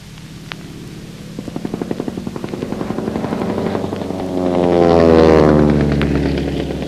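A 1930s Boeing P-12 propeller biplane passes overhead, its rhythmic engine pulsing growing into a loud buzzing roar that swells and then recedes.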